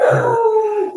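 Indoor dogs howl loudly as people come home, a sustained, wavering, close howl with a short lower yelp near the start and a brief dip before it rises again.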